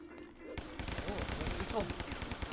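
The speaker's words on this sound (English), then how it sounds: "Oh, we got a machine gun now." Rapid gunfire from a machine gun in the video game Guns, Gore and Cannoli, a dense run of shots under a busy game soundtrack with a voice mixed in.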